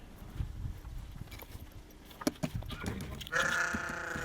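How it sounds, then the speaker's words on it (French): Sheep bleating in Garoua, a sharp bleat near the end over shuffling hooves and scattered thumps, with people talking nearby. "Tu vas gifler mon mouton."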